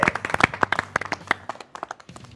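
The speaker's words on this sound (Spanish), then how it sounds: "Vamos a dar un aplauso" A live audience at a Mexican television program bursts into quick, crisp clapping, a dense run of close hand claps that thins out and tapers off after about two seconds.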